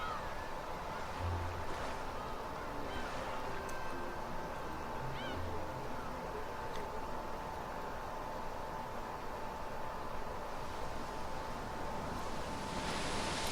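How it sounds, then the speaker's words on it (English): Ocean waves from a visual novel game, a gray sea under light rain, roll as a steady, dense wash of surf that fills the whole stretch with little change in level and no voices. "The sound of waves flowed in my ears."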